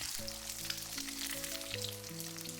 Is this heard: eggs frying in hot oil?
yes